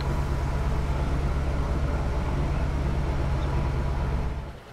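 A UK truck engine in Transport Fever 2 drones steadily with a strong low rumble through most of the stretch before dropping away at the end, while someone speaks casually over it.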